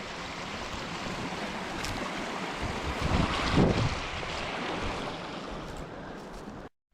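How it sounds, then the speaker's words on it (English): A small babbling brook tumbles over a miniature waterfall beside an abandoned 1700s farm in the Scottish countryside, a steady rushing wash of water that swells briefly midway and then cuts off abruptly at the end. "we've got the Babbling Brook as they call it, a bit of a little miniature waterfall leading down the way"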